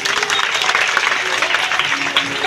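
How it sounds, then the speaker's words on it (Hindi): An audience at a devotional Bhagavat Katha gathering claps to welcome a guest on stage, loud sustained applause from a close crowd with faint voices mixed beneath it. "इस स्वागत में आप लोग जोरदार तालियों से सहयोग करें"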